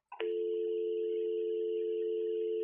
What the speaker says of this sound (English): Now press hook and listen for dial tone.